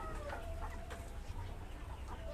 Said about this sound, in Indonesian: Ini kandang baru saya isi ayam KUB